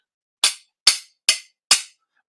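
A kitchen knife blade is banged against a sharpening steel four times at an even pace, each a sharp, bright metallic clank that rings briefly. The strikes are close, with silence between them and no talking.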